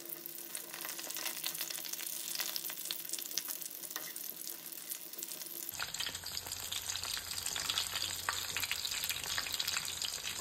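Breadfruit pakodas fry in oil over a medium flame, giving a soft, even bubbling sizzle that runs the whole time, with the background tone shifting partway through.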